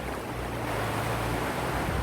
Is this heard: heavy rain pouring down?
yes